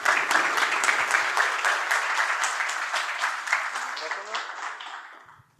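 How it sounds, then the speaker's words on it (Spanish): Audience applause for the speakers at a finance talk, a dense run of clapping from a crowd that carries on steadily, then thins out and fades toward the end. "un aplauso para ellos"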